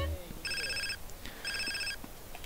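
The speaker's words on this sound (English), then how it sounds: "We've got a phone call." A mobile phone rings in GTA San Andreas, two electronic trilling bursts about a second apart, fairly clear over a low background hum.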